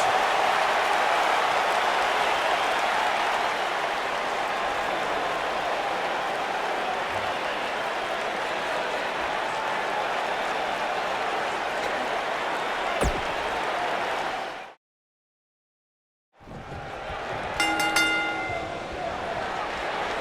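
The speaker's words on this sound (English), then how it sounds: "Listen to this Detroit crowd" A dense, roaring arena crowd in the WWE 2K19 video game cheers steadily for a long stretch, cuts to silence, then returns with a brief ringing bell over the noise.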